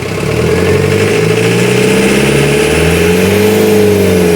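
Diesel engine of a Mahindra Bolero pickup revved at full throttle, a loud, close, continuous drone with rising and wavering engine tones held throughout, no talk over it.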